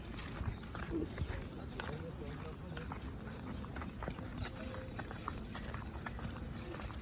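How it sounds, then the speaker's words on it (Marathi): A horse trots past during a village procession, steady clip-clop of hooves running under a continuous wash of crowd noise and talk. "घोडा बघू शकता तुम्ही."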